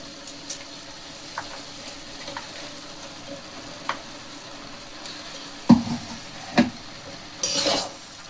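Shredded cabbage and carrot cook in a pan over high flame, giving a low steady sizzle with a few sharp clinks and scrapes of a utensil and a brief louder burst near the end.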